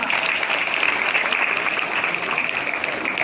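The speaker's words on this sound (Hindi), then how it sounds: "जोरदार तालियां" An audience at a school cleanliness quiz programme bursts into applause, a dense, even roar of many hands clapping that stays loud and constant from start to finish.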